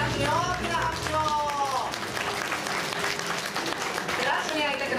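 Audience applause at the Turtle Talk show in Tokyo DisneySea, a steady crowd clapping running throughout beneath music and voices.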